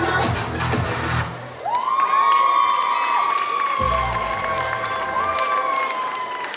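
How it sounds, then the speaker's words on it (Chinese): At a youth street-dance event, music ends after a K-pop cover dance by the group First and a crowd bursts into loud applause, cheering and excited screams that carry on steadily. "我们掌声加尖叫声送给 First"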